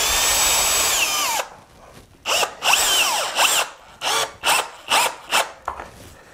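A power drill drives screws into wood while a scrap-wood panel cart is built: one long steady whine, then a series of short rising-and-falling bursts, loud and close, with brief pauses between them and no talking.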